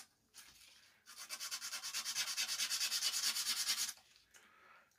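Sandpaper rubs rapidly back and forth over small LEDs to roughen and diffuse them, a steady run of close, brisk scratching strokes lasting about three seconds between quieter pauses.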